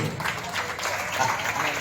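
An audience claps for a children's performance at a church. The applause is soft and steady, somewhat distant, and a voice speaks over it.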